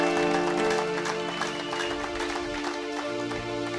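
A church congregation claps together in praise of God, a dense, steady wash of applause running throughout, blended with sustained music-like tones.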